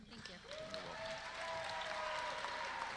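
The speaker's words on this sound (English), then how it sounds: "Let's give her a big round of applause." Audience applause fills a graduation ceremony hall, a steady wash of clapping from a crowd, fairly faint and distant, with a voice speaking over it.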